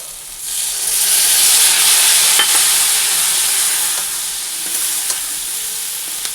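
Soybean chunks and potato frying in a pan give a steady, close sizzling hiss that holds throughout, with a few faint clicks and no talking.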